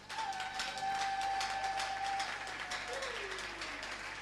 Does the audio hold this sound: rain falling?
no